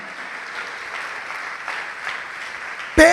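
A church congregation applauds steadily during a sermon, a dense even clapping throughout that ends with a loud voice cutting in.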